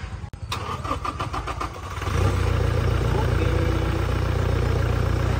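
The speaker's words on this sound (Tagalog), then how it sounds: "So ngayon ay umandar na yung engine natin" A 2019 Toyota Hilux pickup, worked on for hard starting and black smoke, cranks for about two seconds and then catches into a loud, steady, close idle.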